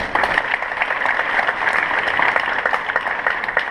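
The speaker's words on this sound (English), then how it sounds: "Give me an applause and I'll come back." Live audience applauds a comedian at a college campus show, dense continuous clapping from a crowd filling the room evenly, steady and fairly loud throughout with no pause.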